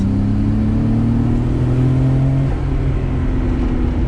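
A 1994 Nissan Skyline GTR engine revs loudly and steadily, its pitch climbing smoothly under acceleration before leveling off, heard close up from inside the car.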